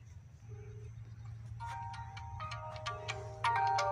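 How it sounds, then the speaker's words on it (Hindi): A smartphone rings with an incoming call, its melodic ringtone rising in short repeated tonal phrases that grow louder toward the end over a low steady hum. "फाइनली हमारे फ़ोन पे कॉल आ रही है"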